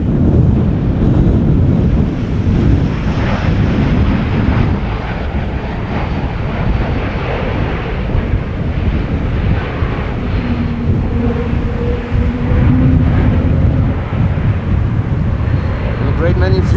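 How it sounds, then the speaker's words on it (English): A KLM Embraer 195 E2 arriving at Amsterdam Schiphol after a storm rumbles low and distant beneath loud, gusty wind buffeting the microphone, with a voice talking over it. "KLM flight 1142 E2 Embraer 195 arriving from Oslo."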